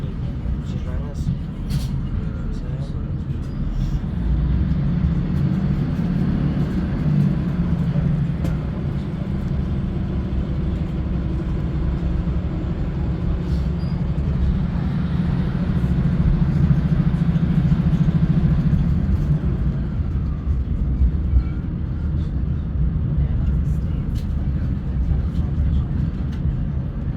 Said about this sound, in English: Welcome aboard this Northern train